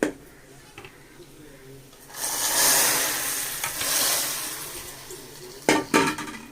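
A fried tempering poured into hot sambar, a sudden burst of loud hissing sizzle that rises and then slowly fades, followed by a couple of clattering knocks.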